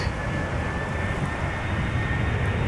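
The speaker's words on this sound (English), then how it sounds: "A319 EasyJet arriving from Dubrovnik" An EasyJet Airbus A319 arriving from Dubrovnik at Amsterdam Schiphol on a sunny day gives off a steady, continuous jet roar at moderate distance, with a faint high tonal whine over broadband rumble and no voices.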